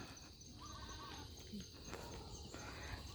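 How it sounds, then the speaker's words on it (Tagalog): A goat bleats once briefly in the middle distance over outdoor background noise, with faint birdsong around it. "may kambing"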